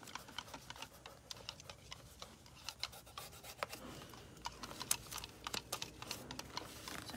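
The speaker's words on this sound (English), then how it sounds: "So I'm just going to take this masking tape, lay this down, make sure you want to burnish it." Masking tape being rubbed down onto a cabinet door, a quiet, close series of irregular scratchy rubs and light ticks.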